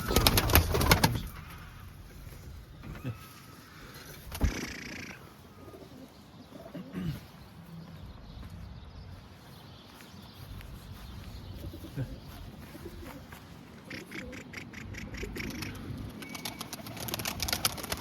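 Pigeons coo softly and steadily after being let out of their loft, low and fairly distant, with some handling noise and knocks at the start and a light flutter of activity near the end.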